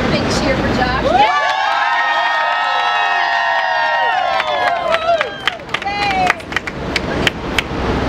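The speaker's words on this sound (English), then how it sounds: "How about we see one more big cheer for Josh?" A studio audience at Good Morning America, watching a live Rubik's Cube solve, erupts in a loud, sustained chorus of high whoops and shouts for Josh that fades into scattered claps and calls.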